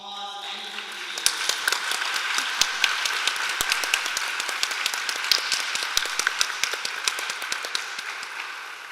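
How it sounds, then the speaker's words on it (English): Audience applause after a panel discussion on abortion rights: a bed of clapping punctuated by sharp, loud individual claps close by, sustained evenly throughout. "please join me in incredible rounds of applause"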